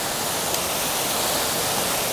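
Constant rushing of flowing water, a steady broadband wash with no variation, nearby.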